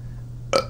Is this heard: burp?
yes